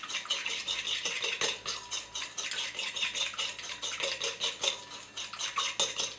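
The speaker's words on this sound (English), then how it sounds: "So I'm just going to give that a quick whisk." A creamy mayonnaise slaw dressing with zesty lemon is whisked quickly in a bowl, giving a fast, continuous metallic clatter and tapping of the whisk against the sides, close and busy with no talking.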